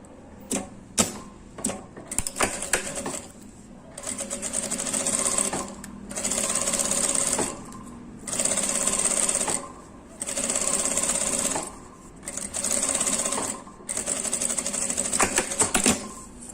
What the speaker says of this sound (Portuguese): Eu gosto de fazer a costura aqui pelo lado da manta, tá?